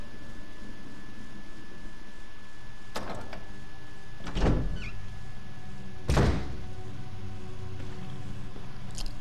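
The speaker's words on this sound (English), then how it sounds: "but we can go over here and unlock this door" A door in a video game is unlocked and opened: a faint click followed by two heavy thunks a couple of seconds apart, alone over a quiet ambient hiss.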